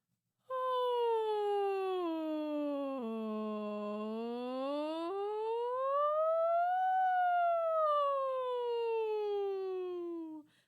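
A single voice imitates a siren, gliding smoothly down, then rising and falling again in one long continuous sustained tone.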